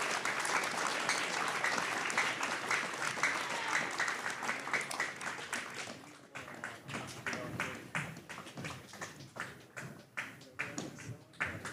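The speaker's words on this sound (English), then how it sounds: "can I get a big round of applause for the chief?" Audience applause at a treaty conference, a dense sustained wave of clapping that stays loud for several seconds, then thins into scattered individual claps toward the end.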